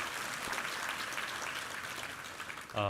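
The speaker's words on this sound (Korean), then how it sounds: "우리 하나님께 감사와 영광의 박수를 올려드리겠습니다." A Korean church congregation gives a round of applause during a Sunday worship service, a soft, far-off, continuous wash of many hands clapping, with a brief brighter tonal sound at the very end.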